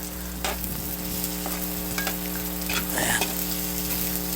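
Food fries steadily in a pan while being stirred, a constant sizzle under a low hum with scraping strokes of the utensil; a voice speaks briefly at the start.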